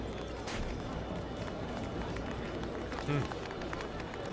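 A big crowd of townsfolk gathers for a circus performance in the Witcher 4 game world, a steady dense shuffle of many footsteps and low murmur running evenly throughout, with a brief louder bump near the end.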